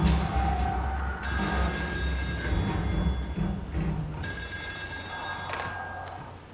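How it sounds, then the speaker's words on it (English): In the horror game Still Wakes The Deep, a telephone bell rings in two long bursts separated by a short pause, clear and fairly close over a low ambient rumble. "The phone's ringing."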